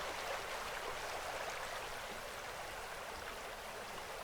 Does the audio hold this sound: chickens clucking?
no